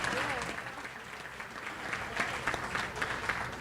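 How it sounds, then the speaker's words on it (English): Audience applause at a 2021 annual celebration dinner for a new high school's principal, a fairly quiet, moderately dense patter of clapping with scattered sharper claps, and a voice faintly audible underneath at the start. "You can applaud that."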